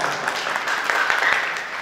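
An audience at a Jain religious gathering with a donation auction claps together in a sustained burst of applause, a dense crackling patter that stays level throughout.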